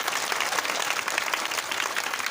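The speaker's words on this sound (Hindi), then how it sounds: "हम लोग चाहेंगे एक बार ताली बजा करके उनका स्वागत करें आप सभी लोग" An audience at a Ram Vivah religious stage event claps steadily in a short, dense burst of applause to welcome an honored guest, fairly soft and with no voices over it.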